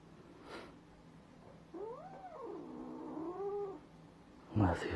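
An unhappy new kitten growls and caterwauls in a low, wavering, drawn-out cry that rises and falls for about two seconds indoors in a home. A brief sharper sound follows near the end.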